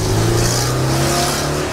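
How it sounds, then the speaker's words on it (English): A Nissan 240SX fitted with a fiberglass body kit and Fortune Auto coilovers revs hard, its exhaust a loud, steady, close drone that holds for under two seconds. "Oh, that exhaust though."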